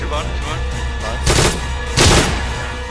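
Gunfire in the survival video game Miscreated: two loud bursts of shots in quick succession, close and harsh, layered with voices from players talking.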